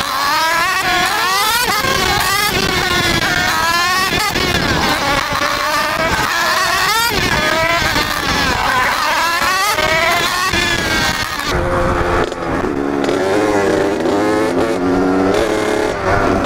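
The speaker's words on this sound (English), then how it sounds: "That's a CR125." A 1985 Honda CR125 two-stroke race motorcycle snarls loud and close at a steady high level, its pitch rising and falling as the throttle changes, then dropping back toward the end.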